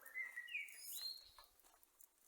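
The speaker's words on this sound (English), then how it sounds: "You've got birds singing in the trees." Birds singing in trees along a walking trail near a flowing stream, with faint high chirps and whistled calls scattered over quiet outdoor background.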